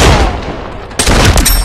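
Loud gunfire erupts in a video game: a dense roar of shots, then a fresh, sharper volley of rapid cracking bursts close up.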